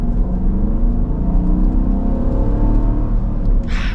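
A 2026 Dodge Durango GT V8 engine rumbles steadily and loudly up close as the SUV accelerates, a sustained low growl with rising harmonics and no talking.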